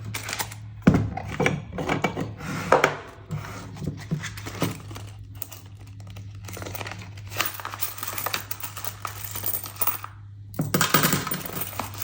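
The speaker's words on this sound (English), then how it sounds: "let me see what we have for coins here." Coins handled and dropped while sorting cash into envelopes, a busy run of metallic clinks, jingles and clatters at close range, coming in bursts with brief pauses, and a low steady hum underneath.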